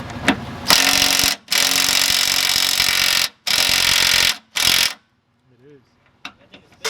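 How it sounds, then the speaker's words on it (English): A power drill whirs loudly in several bursts of a second or more with short pauses, then stops; quiet voices and small noises follow. "Dale con el drill ahora sí."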